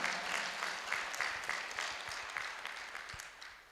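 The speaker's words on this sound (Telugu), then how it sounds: "ఒకసారి సార్ గట్టిగా క్లాప్ చేద్దాం" An audience at a Pyramid Masters gathering claps together, a dense burst of applause that gradually tapers off, heard from a moderate distance.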